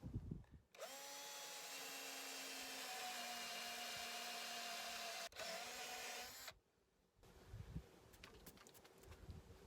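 A power drill whines steadily for several seconds boring into a birch log, briefly pauses, then resumes before cutting off, followed by quieter handling noises.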